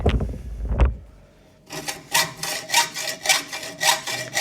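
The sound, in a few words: cutting timber with a saw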